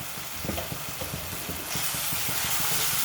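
Chili powder and turmeric frying in a pan give a continuous sizzling hiss, with soft rhythmic stirring scrapes beneath it, swelling louder and brighter partway through.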